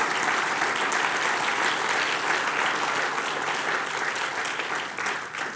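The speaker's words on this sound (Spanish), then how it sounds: "Dale un aplauso al Señor por eso" Sustained applause from a church congregation, dense and steady throughout, fading slightly toward the end with no voices standing out.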